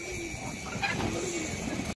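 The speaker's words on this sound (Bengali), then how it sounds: "এই যে দেখেন বড় সাইজের একটা মাদি কবুতর" A large female pigeon coos in a soft, steady, low murmur that carries on without a break for about two seconds, close by and unaccompanied by any talking.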